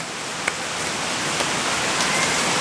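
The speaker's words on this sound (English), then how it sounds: "This rain is so loud now." Heavy rain pours down steadily, a dense, loud hiss with occasional sharper drops hitting a surface nearby.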